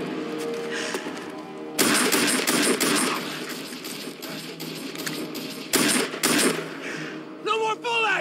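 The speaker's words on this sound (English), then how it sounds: "Keep firing everything you got!" Gunfire in a Stargate Atlantis fan tribute comes as dense bursts of sharp, loud shots and clattering mechanisms, with brief pauses between volleys and a few tonal electronic blips near the end.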